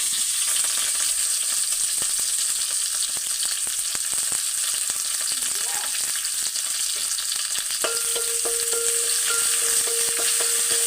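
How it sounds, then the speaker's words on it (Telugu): Mustard seeds, cumin, dried red chillies, garlic and curry leaves sizzle in hot oil for a sambar tempering, giving a steady, close, crackling hiss with scattered pops and faint stirring throughout. "ఇది సాంబార్ తాలింపు"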